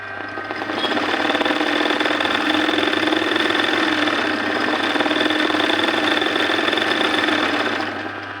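An embroidery sewing machine runs a filling stitch, a steady, close mechanical whir with fast rhythmic needle chatter that holds evenly for several seconds before winding down.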